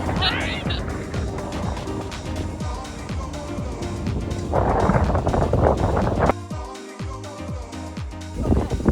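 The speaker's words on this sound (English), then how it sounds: "It's just really windy." Strong wind on a causeway near Burlington, Vermont roars and buffets against the microphone in heavy, uneven gusts, with a voice faintly audible beneath the rumble.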